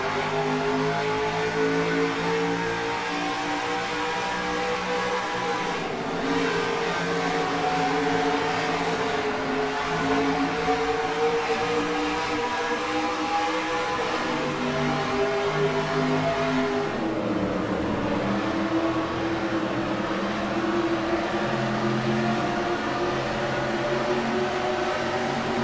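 Race truck engines roar through banking in NASCAR Racing 2003 at a truck series playoff race, a loud continuous in-car drone with pitch rising and falling as the truck accelerates and shifts, joined by a pack of other engines.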